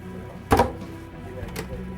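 Sportfishing boat galley drawer sliding open and locking into place, a short solid clunk and rattle near the middle, close and moderately loud over a quiet cabin background.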